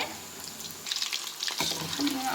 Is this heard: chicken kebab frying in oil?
yes